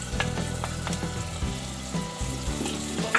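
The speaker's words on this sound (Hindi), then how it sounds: "इसमें टमाटर पेस्ट डाल देंगे" Tomato paste hitting frying masala in a pan gives a steady, close sizzle with scraping stir sounds, and no talk.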